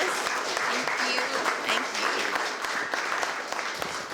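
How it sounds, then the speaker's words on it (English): Dense, steady audience applause after a Frankfort Heritage Lecture, a continuous wash of many hands clapping at moderate loudness with no talk over it. "Let's give him another round of applause."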